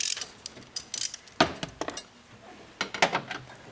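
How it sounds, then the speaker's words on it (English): A 10mm socket ratchet loosens a nut near the air filter of a 2005–2010 Nissan Xterra, giving scattered close metallic clicks in short irregular bursts, with no talk. "Take your 10mm socket"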